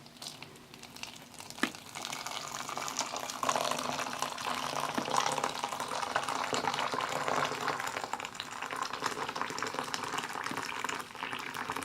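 Hot water poured over a flower in a cup, a soft continuous trickling and splashing at close range that holds steady for several seconds, fairly quiet, with a light crinkle near the start and no talking.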